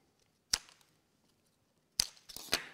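Scissors snip the elastic bands off an iris bouquet, giving three or four sharp, crisp cuts close by in a quiet room with a pause between the first and the rest.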